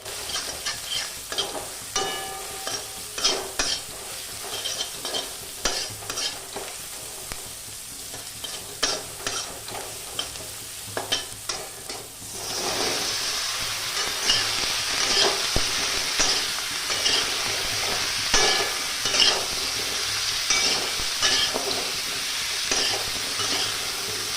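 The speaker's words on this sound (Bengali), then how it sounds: "তারপর আদা বাটা দিয়ে ভালোভাবে নেড়ে হলুদ গুঁড়ো দিলাম।" Ginger paste and turmeric powder frying in a little oil in a pan, stirred with repeated scraping strokes over a crackling sizzle that grows louder and denser halfway through.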